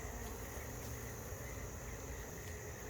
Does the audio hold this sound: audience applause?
no